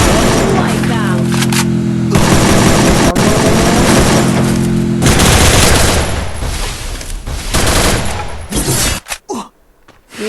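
Rapid bursts of automatic gunfire and explosions from the battle-royale game Free Fire, loud and dense for several seconds, with a player's excited voice shouting over the shooting before it thins into scattered shots.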